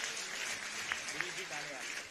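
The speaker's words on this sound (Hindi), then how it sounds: "जरा इनके लिए भी तालियां बजा दीजिएगा" Steady applause from a crowd, a broad continuous clatter of clapping with a couple of sharper claps standing out, faint voices underneath.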